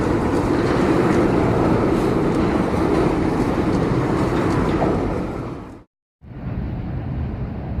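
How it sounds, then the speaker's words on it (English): A train rumbles past close by in Kansas City, a loud continuous roar with faint clatter, then it cuts out abruptly before resuming briefly. "Another train."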